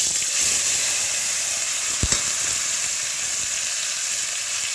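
Spice-coated raw fish fries in hot oil in a wok, a steady close sizzle with a brief knock partway through and no voices.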